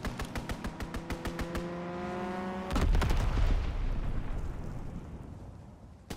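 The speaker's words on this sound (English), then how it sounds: "Fighter pilot inbound. Strafing the target." Fighter plane strafing a target in a WW2 shooter game: a rapid run of regular bursts of gunfire, then a heavy roaring rush and boom that slowly fades, loud and close with no talking.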